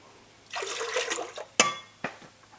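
Lukewarm water poured into a bowl for bread dough: a short splashing pour lasting about a second, followed by a sharp clink and a softer knock of a container against the bowl.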